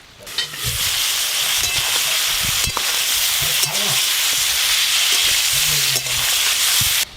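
Mixed vegetables sizzle steadily in hot oil in a pan until browned, a loud, continuous frying hiss broken by a few stirring scrapes.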